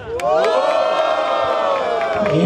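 A crowd at a Brazilian rap battle in Barueri cheers and shouts loudly, with whoops and a sustained chant over the clapping, building quickly and holding steady until the end.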